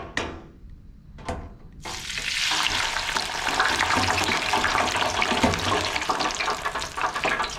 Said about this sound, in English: we've got our oil preheated and we're going to do the fries first